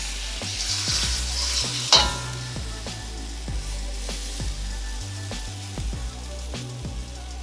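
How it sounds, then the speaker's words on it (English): Shrimp stirred in a hot wok for a Thai pad talay pong karee, a steady sizzle under repeated rhythmic scrapes and taps of the utensil against the pan, close and fairly loud. "Just going to continue to move things around so nothing sticks to the bottom of the wok."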